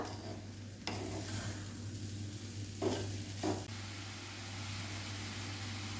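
A coconut burfi mixture of grated coconut stirred in a pan over a low gas flame, giving a steady soft sizzle with a few louder scraping strokes, close by over a constant hum.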